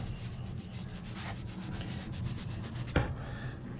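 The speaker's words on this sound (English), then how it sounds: "scrubbing off the part number on these flat top pistons" Steady abrasive scrubbing on flat-top engine pistons to remove a stamped part number, a continuous close rubbing rasp with one brief sharper scrape near the end, no talk.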